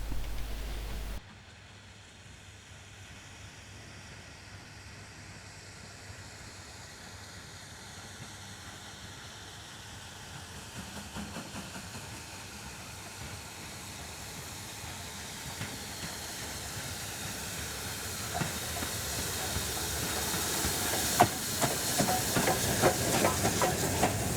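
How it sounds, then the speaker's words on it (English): A BR Standard 4 steam locomotive passes near Bury Bolton Street by the woodyard, a steady hiss of steam and rumbling engine that grows gradually louder and closer over the span, with no voices. "Standard 4 being captured again just by the Woodyard after the quarter mile near Bury Bolton Street"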